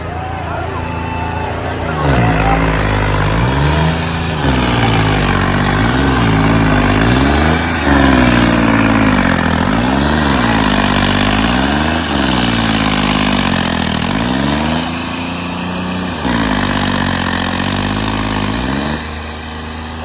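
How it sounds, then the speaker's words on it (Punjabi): A tractor engine labors under very heavy load in a trolley-pulling contest through muddy ground, with a rhythmic, pulsing chug that rises and falls repeatedly, loud and close, with a voice talking over it. "ਜਿਹੜੇ ਟਰੈਕਟਰ ਸਟਾਰਟ ਹੋਇਆ ਚੱਲਿਆ ਸ਼ੁਰੂ ਹੋਇਆ ਲੋਡ ਬਹੁਤ ਜ਼ਿਆਦਾ ਹੈ"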